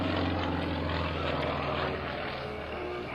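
An aerobatic propeller airplane performing outside rolls at the 2004 Dover AFB open house air show gives a steady, loud engine drone that holds throughout with slight shifts in tone, with no talk over it.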